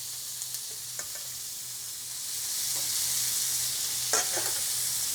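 Shrimp sear in hot oil in a pan, a steady bright sizzle that grows fuller partway through, with a few soft clicks and taps of handling on top.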